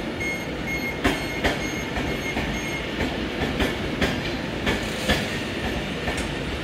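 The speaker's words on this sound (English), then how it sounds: "Here coming in now is the Avanti West Coast Pendolino." An Avanti West Coast Pendolino pulls into a station platform at Manchester Piccadilly, giving a continuous loud rolling rumble with evenly spaced wheel clacks and faint high squeal, close by and without voices.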